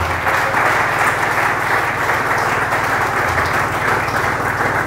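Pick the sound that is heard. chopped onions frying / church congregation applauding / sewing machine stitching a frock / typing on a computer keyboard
church congregation applauding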